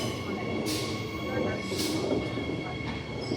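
Brisbane SMU 260 series commuter train riding the Cleveland line, heard from inside as a continuous rumbling rail roar with steady tonal hum and a couple of brief hissing bursts, and faint talk in the background.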